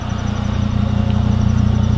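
A 2004 Volvo S60R idles with a MagnaFlow exhaust and gutted catalytic converter, a steady, close, low rumbling burble with an even pulse and no talking.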